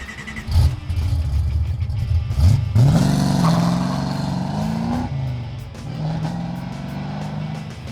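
A 1973 Ford Mustang restomod fires up and pulls away, engine catching with a quick rising rev, then settling into a strong, close rumble that swells again as it drives off.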